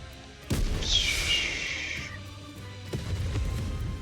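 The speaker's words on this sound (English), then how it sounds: "a shell flies from the rocket launcher. And a resounding explosion causes the entire snowfield to be blanketed in thick plumes of white smoke" A rocket launcher shell bursts across a snowfield in Nikke, a booming blast followed by a bright whooshing hiss that fades over about a second, then a second duller thump.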